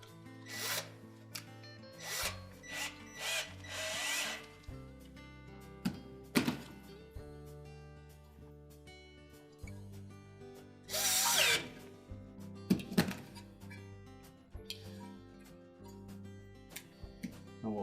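A power drill reinstalls screws on the water inlet valve bracket of a Whirlpool washer, whirring in several short, close bursts of varying pitch separated by pauses and light handling clatter.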